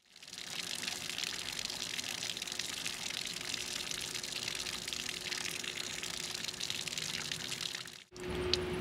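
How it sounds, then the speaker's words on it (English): Carbon-filtered water flowing steadily out of the bottom of a Tucker H2Pro cart, a continuous loud rushing gush that runs unbroken for about eight seconds before briefly cutting out and resuming. "carbon water will begin to flow out of the bottom of the cart"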